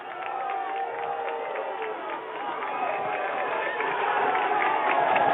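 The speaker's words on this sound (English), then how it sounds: "good supportive crowd for Mercyhurst" A crowd at a college football stadium roars and cheers for the home team, a broad, distant swell of voices that grows gradually louder, heard through a narrow broadcast-quality channel.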